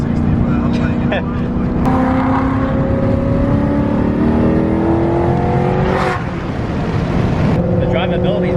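A supercharged Shelby GT500 accelerating hard at high speed, its engine droning loud and continuous with rising tones and a shift partway through, under road and wind roar.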